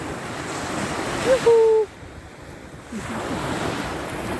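Strong ocean waves breaking at Aurora beach, a steady roar of surf with wind buffeting the microphone, while a person lets out a brief excited whoop.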